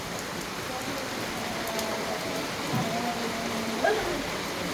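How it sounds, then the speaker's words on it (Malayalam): Heavy, flood-like monsoon rain pours down in a steady, even hiss that never lets up, with only a few faint passing tones riding on top. "ഇവിടെ ഞങ്ങളുടെ അവിടെ നല്ല മഴ പറഞ്ഞു, വെള്ളപ്പൊക്കം പോലെ ഉണ്ട് മഴ"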